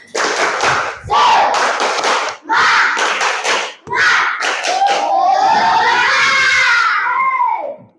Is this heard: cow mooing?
no